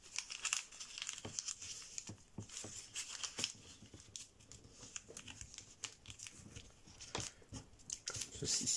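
Paper crinkling and being creased for an origami blue shark, quiet close-up crackles and sharp snaps of folds in an irregular rhythm, no voices.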